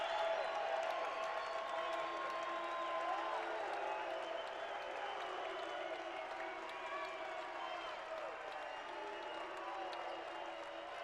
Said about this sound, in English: Once again, the crowd's starting to kick in for WT.